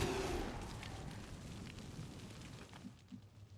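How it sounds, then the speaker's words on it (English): An explosion in the video game XCOM 2 opens with a loud, broad rumbling blast that slowly decays into a sustained low roar, followed by a couple of faint thuds near the end. "Loud explosion draws a lost swarm closer."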